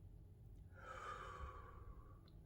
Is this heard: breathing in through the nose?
yes